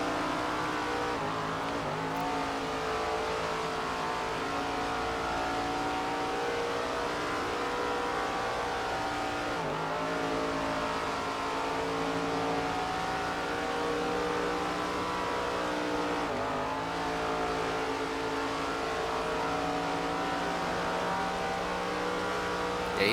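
Super late model race car engines in the SRX video game at the Snowball Derby: a steady, loud, droning engine whine that holds through the whole stretch with brief dips and swells as the cars shift and pass, and no talk.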